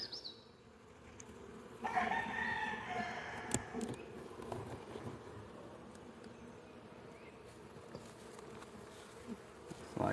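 Honeybees buzz steadily around a freshly drawn hive frame during a nuc transfer into a hive body, a soft continuous hum with occasional louder bursts and handling noises nearby.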